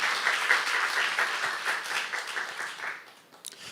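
A church congregation claps together at a Saturday worship service, a steady wash of hand claps at moderate distance that thins out toward the end.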